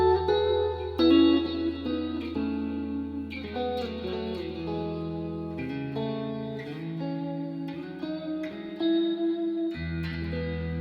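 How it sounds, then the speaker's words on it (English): Electric guitar notes and chords played slowly, washed in reverb and repeating delay echoes that trail and overlap into a spacious, ringing sound. "But you add the reverb and delay."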